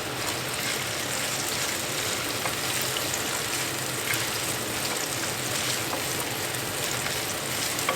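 Garlic sautéing in a pan for chicken teriyaki gives a steady, even sizzle and crackle that runs unbroken throughout, with no voices.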